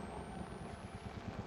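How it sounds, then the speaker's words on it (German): A helicopter in the horror game Outlast thrums low and continuously in the distance, a faint pulsing rotor rumble with no voices. "Und warum hört sich so an, als wäre hier ein Hubschrauber irgendwo?"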